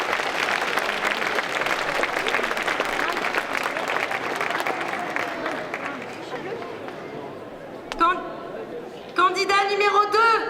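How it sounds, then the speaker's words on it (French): Audience applause for a contestant at a cosplay contest during a Japan pop show in Troyes, a dense crowd clapping that fills most of the clip, then thins as an announcer's voice and amplified music or sound effects break in near the end. "On applaudit encore notre candidat numéro 1."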